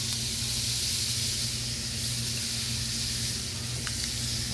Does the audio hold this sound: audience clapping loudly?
no